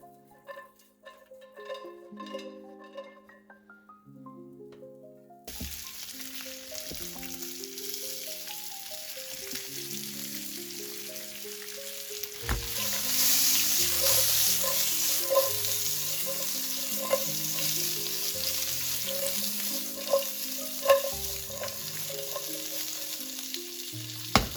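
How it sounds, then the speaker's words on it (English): Chorizo frying gently in a pan over medium heat: a steady sizzle begins after a musical intro, then grows louder and fuller with scattered pops, all under continuous background music. "Get the pan over a medium heat and add the chorizo"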